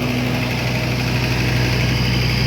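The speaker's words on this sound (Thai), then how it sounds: "เป็นสิบล้อแท่นเตี้ยนะครับ กำลังทำการสไลด์ขึ้นครับ" A ten-wheeler low-bed slide truck's diesel engine idles steadily while loading, a constant close rumble with a mid-pitched drone and no break or voices across the short stretch.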